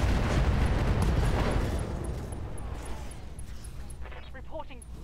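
Heavy mech weapons in Roguetech fire in a loud, booming burst that rolls off into a rumbling decay, close and dense, with faint voices under the tail.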